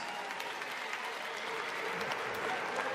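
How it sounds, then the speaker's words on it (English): A boxing arena crowd in upstate New York applauds two fighters after a 12-round bout, a dense, steady wash of clapping and crowd noise heard from a distance. "let's get an upstate New York round of applause for these two hard-hitting"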